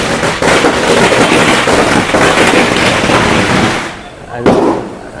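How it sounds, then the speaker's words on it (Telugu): Firecrackers set off inside a container at a Buddhist temple in Thailand, a loud dense crackling barrage of rapid pops for about four seconds, then a short pause and a final burst. "దానిలో టపాకాయలు పెట్టి పేల్చారు ఇప్పుడే"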